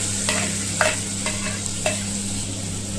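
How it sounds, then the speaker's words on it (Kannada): Masala frying in hot oil for chicken biryani, a steady sizzle with a few soft clinks of a spoon as it is stirred, close and even throughout. "ಈ ಎಣ್ಣೆಯಲ್ಲಿ ಬ್ರೌನ್ ಕಲರ್ ಬರೋವರೆಗೂ ಫ್ರೈ ಮಾಡ್ಕೋಬೇಕು."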